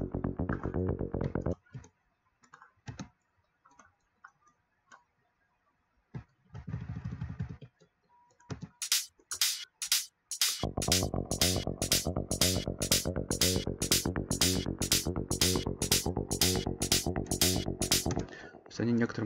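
Synthesizer arpeggiator with its swing control adjusted, first sparse clicks and short bursts, then a fast, loud stream of repeating bright notes with an uneven, shuffled pulse that runs to the end.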